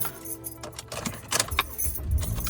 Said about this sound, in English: Getting in my car.